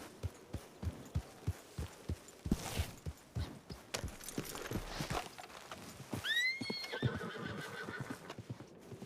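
A horse in a video game clops steadily along on its hooves, then lets out a loud, drawn-out whinny near the end, all close and clear with no talking.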